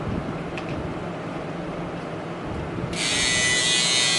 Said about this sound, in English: guess I'll shave my mustache